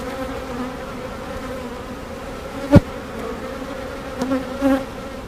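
A steady low buzzing of many honeybees fills the air close by, with a couple of brief louder bumps and thuds.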